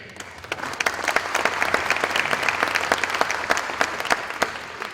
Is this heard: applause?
yes